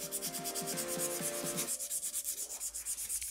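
Steady back-and-forth rasping of a fine-grit file buffing a fingernail, evenly paced strokes, close and fairly loud.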